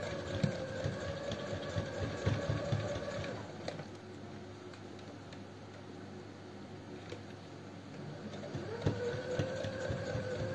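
A sewing machine runs steady straight stitches through fabric, a continuous mid-level mechanical whir with a brief pause and restart, fairly close.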